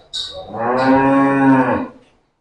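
A dairy cow on a farm lets out a single loud, close moo that swells and holds for about two seconds before trailing off.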